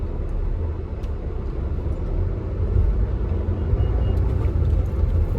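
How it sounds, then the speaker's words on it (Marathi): Steady road traffic rumble near a flyover construction area, a dense continuous drone of passing vehicles with low engine noise throughout, fairly loud and without speech. "जास्त ट्रॅफिक आहे"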